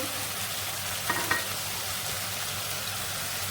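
Spices for a paneer curry fry and stir in a hot pan, a steady close sizzle with a couple of brief clinks of a spoon against the pan, no talking.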